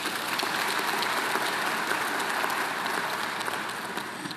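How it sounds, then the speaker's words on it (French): Sustained applause from a large crowd, a dense even patter of many hands clapping that tapers slightly toward the end. "Je voudrais que nous puissions les applaudir."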